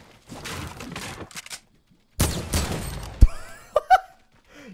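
Gunshots from a weapon in the Fortnite battle royale game, a couple of bursts of loud broadband cracks followed by a few sharper single shots and brief higher-pitched effects.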